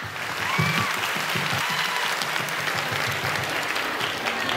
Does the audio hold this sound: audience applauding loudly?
yes